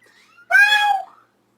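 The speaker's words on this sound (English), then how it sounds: "Our cat hates this show. She meows lately for no reason." A pet cat gives a single loud, close meow lasting about half a second, preceded by a faint softer mew, with quiet surroundings.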